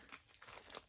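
Adhesive tape peeled slowly off paper, a faint crinkly tearing rasp in a few soft pulls, close and quiet with no voices.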